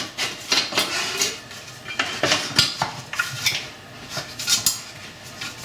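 A lid is put back on a Vorwerk Thermomix TM6 kitchen machine, a string of close hard clicks and plasticky clunks with short knocks and rattles in between.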